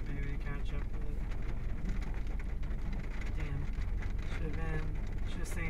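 Steady rain falls during a storm chase in West Central Texas, a dense continuous hiss on the vehicle with low rumble beneath, while voices talk over it throughout.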